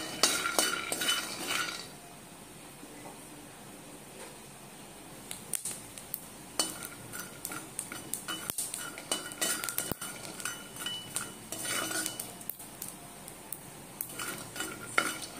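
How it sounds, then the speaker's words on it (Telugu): Peanuts roasting in a pan while being stirred with a metal spoon for sorrel flower chutney: dry rattling and scraping of nuts against the pan, a steady burst at first, then intermittent clinks and stirring strokes, close by. "పల్లీలు కూడా దోరగా వేగాయి,"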